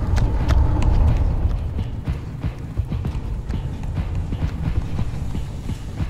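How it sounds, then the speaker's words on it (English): Rapid footsteps thud in a video game, a quick, uneven run of near, fairly loud impacts that fades slightly to lighter steps, with no talk over them. "I hear other footsteps."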